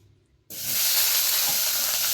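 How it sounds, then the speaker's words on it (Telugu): Tomatoes drop into hot oil in a pan for a dhaba-style chicken gravy, setting off a sudden loud, bright sizzle that continues steadily up close after a brief quiet start. "ఒక ప్యాన్లో కొంచెం నూనె వేసుకొని ఇందులోనే టమాటా,"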